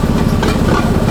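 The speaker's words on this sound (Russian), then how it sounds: "поезд идет, торф он везет" Narrow-gauge peat train running on rails behind a diesel locomotive, a loud, close rumble with dense rattling and hiss, brief and continuous.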